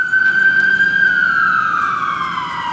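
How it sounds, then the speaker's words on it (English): A loud emergency vehicle siren on a New York City street wails nearby as one long, steady tone that slowly slides downward in pitch, with traffic rumble underneath. "Let me just wait for the siren."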